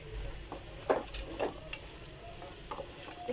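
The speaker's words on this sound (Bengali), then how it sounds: "একটু সতে করে নিচ্ছি" Garlic, ginger paste and green chillies sauté in a pan for fried rice, a moderate steady sizzle broken by several scraping stirs of a spatula, with no speech.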